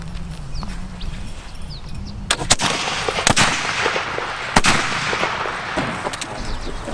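Muskets fire from a fort at a primitive mountain man camp, sharp loud reports cracking out several times at irregular intervals over a murmuring crowd and outdoor bustle.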